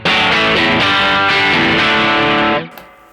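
Distorted electric guitar from a Strat's bridge pickup, tone rolled slightly back, driven through a Nobels ODR-1 overdrive pedal: a loud, sustained run of crunchy chords that rings for a few seconds before being cut off, then quiet.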